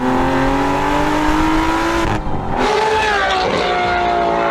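Lamborghini Revuelto engine revving inside a tunnel, a loud, rising high-pitched wail with echo, briefly dropping off before climbing again, sustained and close.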